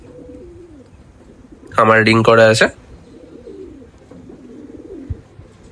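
A pet pigeon gives one loud, close, rippling coo lasting about a second, with a voice speaking quietly before and after it.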